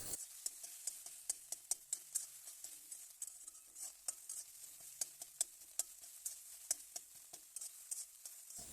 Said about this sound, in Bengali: ডিমটা নাড়িয়ে চাড়িয়ে ছোট ছোট কুচি করে ভেজে নেব।